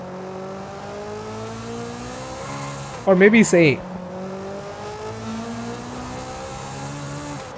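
A car engine revs in Forza Horizon 5, a steady tone climbing through the rev range with a sudden loud, harsh burst midway, under someone speaking.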